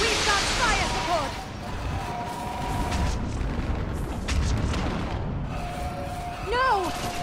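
Booming artillery explosions from fire support in the video game Mass Effect 3, a steady rumbling barrage with heavy low thuds under battle noise and intermittent voices.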